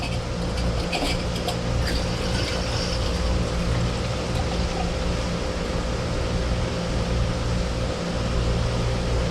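Mead pours steadily from a one-gallon pressure-fermenting keg through a small picnic faucet, a continuous even rush of liquid over a low hum, with no talking.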